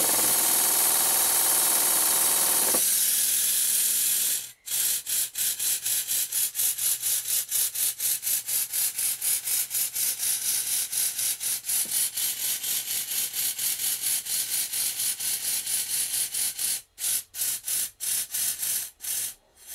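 A Stuart Double 10 model steam engine runs with rapid, rhythmic mechanical chuffing and clattering for most of the clip, loud and close, with a couple of brief pauses near the end.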